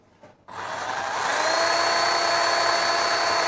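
A Milwaukee cordless pruning saw with a 6-inch bar starts after a faint click, then spins up into a steady, high-pitched whining buzz that keeps running loud and close.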